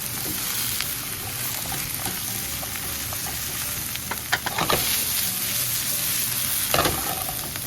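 Cashews being stirred as they fry in a pan, standing in for peanuts in a kung pao chicken dish; a steady close sizzle with scattered scraping clicks and taps from the stirring, no voices.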